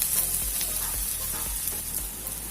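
Onions with a pinch of salt sauté in a pan for crab fry, a continuous close sizzle with a few soft, rhythmic stirring scrapes.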